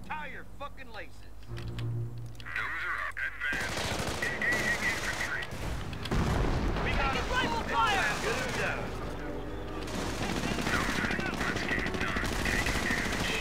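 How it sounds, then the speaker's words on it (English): Machine gun fire crackles in a Company of Heroes battle, a dense, continuous rattle of gunfire and combat noise that fills the scene after a quieter opening, with voices talking over it. "good luck with that machine gun"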